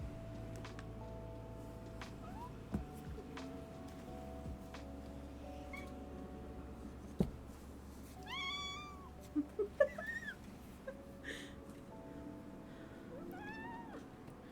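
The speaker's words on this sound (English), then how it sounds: "I have a kitten." A kitten meows several times in short, rising calls in the middle and again near the end, fairly close but modest in level over a steady low hum, with no talking.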